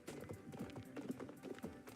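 Horses clip-clopping in a steady stream of hoofbeats, close and continuous, with busy background sound throughout.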